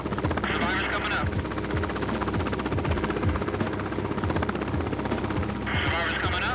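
A rescue helicopter hovers during a hoist pickup over water, its steady heavy rotor thrum and engine whine filling the whole stretch, with faint radio-style voices under it.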